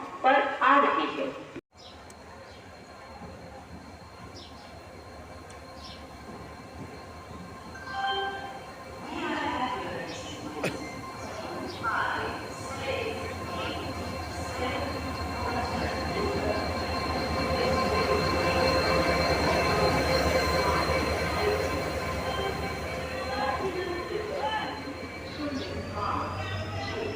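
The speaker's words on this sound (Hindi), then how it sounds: "151615 गुवाहाटी सिलचर एक्सप्रेस कुछ ही समय में 2 नंबर प्लेटफॉर्म पर आ रही है।" The Guwahati-Silchar Express pulls into platform 2 at a station, with a long rising rumble of rolling wagons and faint wheel squeal building up close, under a public-address announcement and crowd chatter.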